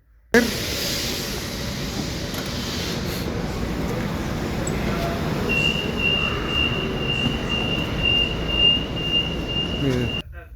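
A suburban train arrives at Cuautitlán station in Mexico with a constant rumbling roar and hiss, and a thin high metallic squeal of wheels sets in partway through.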